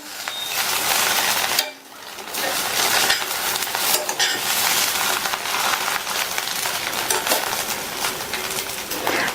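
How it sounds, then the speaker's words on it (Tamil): Bread upma being stirred in a pan, giving a continuous scraping, sizzling rustle with a short pause, steady and close throughout. "நல்லா மிக்ஸ் பண்ணி விட்டுருங்க"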